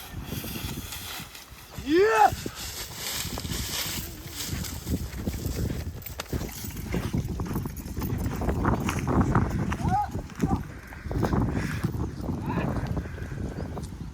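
Horse hooves clip-clop steadily on hard ground, close by, as a mare is ridden, with people talking over them and a short high call early on.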